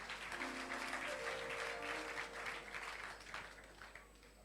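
Congregation applauding during a French-language church service, a dense wash of clapping from many hands that fades gradually toward the end, with faint sustained organ or keyboard tones underneath.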